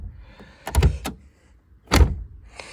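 Soundproofed doors of a VAZ 2108 car shutting with dull, muffled thunks: a pair of quick closes, a pause, then one more solid thud, fairly close with no talking.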